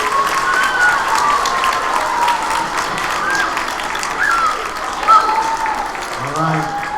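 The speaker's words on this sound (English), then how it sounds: "Can we give all of the contestants a round of applause," An audience at a school spelling bee claps in sustained, dense applause for the contestants. It stays fairly even throughout, with a few cheers and voices mixed in and a brief spoken bit near the end.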